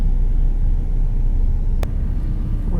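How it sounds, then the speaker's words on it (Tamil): A Krish Travels bus cruising on the highway from Coimbatore to Chennai, a steady loud road rumble from inside the cabin with one brief sharp click partway through. "வண்டி வந்து பெமாத்தமெட்டி கிராஸ் பண்ணி போய்கிட்டு இருக்கு"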